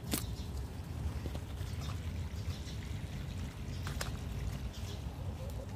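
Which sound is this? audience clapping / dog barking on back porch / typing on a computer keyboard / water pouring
water pouring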